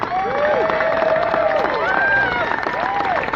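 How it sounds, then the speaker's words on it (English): Crowd at an amusement park media day for the Mystic Timbers ride at Kings Island gives a round of applause, steady clapping and cheering heard under loud voices and whoops. "give him a nice round of applause"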